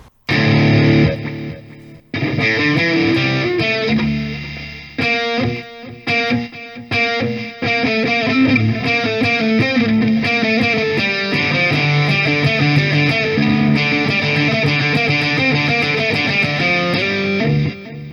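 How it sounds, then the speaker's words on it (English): A heavily distorted electric guitar played through a EROK Pocket Rock headphone amp plays chords and riffs loud and close, with a brief pause early on, then sustained crunchy playing to the end. "Let's turn it to a distortion amplifier."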